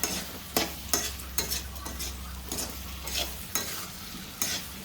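Potato masala kurma for chapati, with butter, is stirred and fried in a pan: a spoon scrapes the pan in regular strokes about every half second over a steady low sizzle, close and moderately loud, with no talking.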